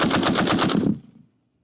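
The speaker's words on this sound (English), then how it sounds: "the barrel on the M2 reciprocates a bit when it fires" An M2 .50 caliber heavy machine gun firing a short full-auto burst, about eight loud heavy rapid reports in steady rhythm, then a brief ringing decay into silence.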